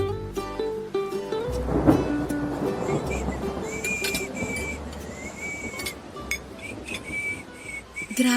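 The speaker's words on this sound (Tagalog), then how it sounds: "Grabe, ang lakas ng ulan." Heavy rain and rumbling thunder as a radio drama sound effect, a dense loud wash of rain with a deep roll of thunder near the start, plus a thin whistling tone and small clinks over it.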